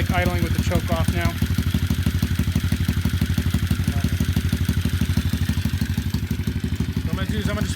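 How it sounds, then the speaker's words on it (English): A 90cc pit bike engine fitted to a Nirve Switchblade bicycle idles with the choke off, a steady close mid-pitched putter with rapid even pulses throughout, while someone talks briefly over it at the start. "So there's the bike idling with the choke off now."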